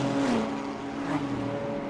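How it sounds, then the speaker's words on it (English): Race cars, including a McLaren Artura, circuit the Jarama track, with engines whining in steady pitch lines and one rising then falling as a car passes, mid-distance and fairly loud throughout. "One of the McLaren Arturas right behind him."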